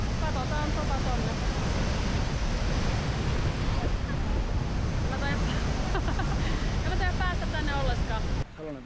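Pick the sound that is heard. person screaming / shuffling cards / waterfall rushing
waterfall rushing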